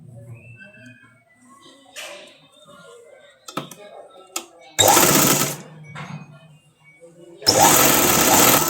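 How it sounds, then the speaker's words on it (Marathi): Sewing machine slowly stitching a folded waistband casing on a dhoti, in two loud bursts of whirring stitching separated by quieter handling clicks and rustles. "एकदम सावकाश स्टिचिंग करायची आहे इथे."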